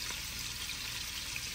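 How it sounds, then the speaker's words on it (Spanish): Food frying in a pan, a steady close hissing sizzle with faint crackles, constant and unbroken over a short stretch with no voices. "si lo dejo freír mucho se me van a secar"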